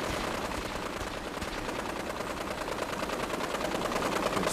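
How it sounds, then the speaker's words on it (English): Sustained automatic gunfire in Fallout 4 as a courser is shot at, a dense, steady rattle of rapid shots running throughout at moderate loudness. "Oh, they're really shooting the courser,"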